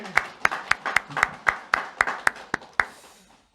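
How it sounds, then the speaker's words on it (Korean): A church congregation applauding during an Easter Sunday service: a dozen or so crisp, fairly regular claps that stay prominent over a soft crowd clatter, then thin out and fade toward the end. "우리 박수로 먼저 영광 돌려드리겠습니다."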